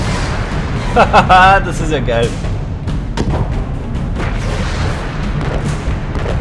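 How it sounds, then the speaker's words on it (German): Cannons firing from a ship in the game Alice Madness Returns thump in a rapid series of booms under excited talk, with a steady rumble of game noise underneath. "Durch die linke Maustaste, um Kanonen abzufeuern, und die rechte Maustaste, um Wasserbomben zu schießen."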